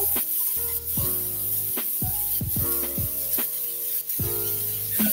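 Food sizzling hard in a pan while it is stirred vigorously, with a steady hiss and scraping strokes that repeat, up close and mostly alone while a faint tonal hum sits underneath.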